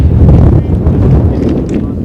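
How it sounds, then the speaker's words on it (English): Cold, gusty west wind buffeting an outdoor microphone at a high school baseball game, a loud continuous low rumble with irregular surges throughout. "Cold wind blowing out of the west here."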